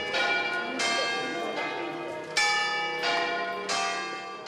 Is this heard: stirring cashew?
no